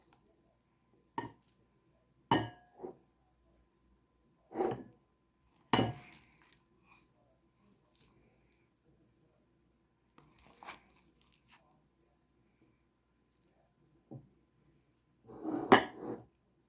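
Rice spooned out of a pot into bowls for Thai-style green chicken curry: scattered clinks and scrapes of a utensil on crockery, separated by quiet gaps, with a louder clatter near the end.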